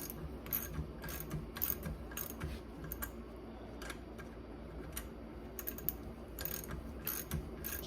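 Faint metallic ratcheting and small tool clicks come in scattered bursts as bolts are run down finger tight on a Ferrari 328 water pump, with no talking.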